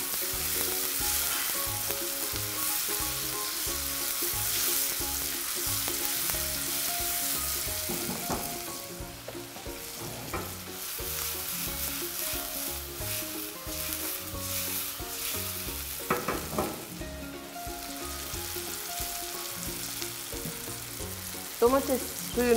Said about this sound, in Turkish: Beraber kavurmaya devam ediyorum.